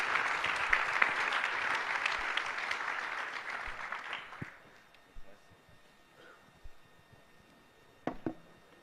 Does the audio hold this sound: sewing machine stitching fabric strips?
no